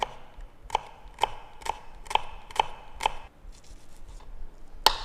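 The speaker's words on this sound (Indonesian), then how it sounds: "Berikutnya shallot, bawang merah. Biar kita gampang bagi dua aja." A knife halves shallots on a cutting board in about eight crisp, evenly spaced chops that are close and moderately loud, followed by a brief pause and one final sharp chop, with no talk.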